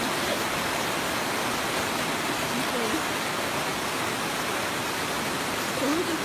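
Water rushing in a stream in the jungle, a dense, steady hiss that fills the whole stretch, with a brief spoken remark partly buried in it.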